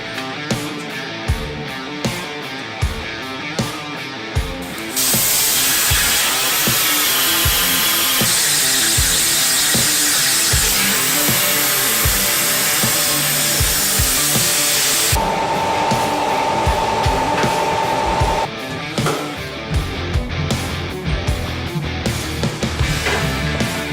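A power tool cuts metal close up with a loud, sustained, harsh grinding whine that holds steady for most of the span. The clip opens and closes with rattling mechanical clatter and a tonal screech near the end, and no voices are heard.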